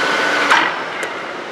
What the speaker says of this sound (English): So forward, the drill is turning.